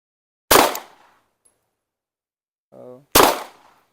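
Two sharp, loud gunshots ring out about two and a half seconds apart at an outdoor range while guns are zeroed, each with a quick decaying tail; a brief voice sounds just before the second shot.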